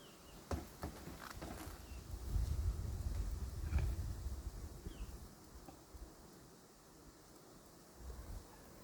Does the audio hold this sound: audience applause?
no